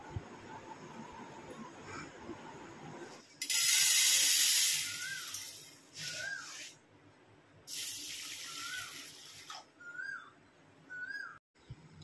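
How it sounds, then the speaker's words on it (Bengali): Masoor lentils are washed under a running kitchen tap in a few loud gushing bursts of flowing water separated by quieter swishing and rinsing, close by, with no talking. "দেখো মসুর ডালটা খুব ভালো করে ধুয়ে নিতে হবে, একদম ফ্রেশ সাদা জল আসা পর্যন্ত।"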